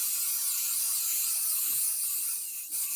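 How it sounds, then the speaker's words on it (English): Steady, continuous hiss of a spray adhesive can sprayed from about 12 inches onto a stencil for cold foiling, a broad airy rush lasting several seconds that briefly dips near the end. "Just hold the spray adhesive about 12 inches and give it a good shot."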